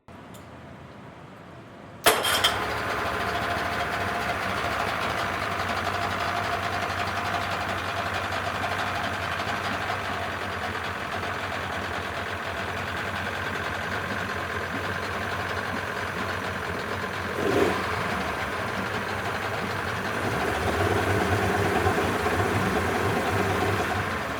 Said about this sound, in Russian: После замены прокладок запустили мотор.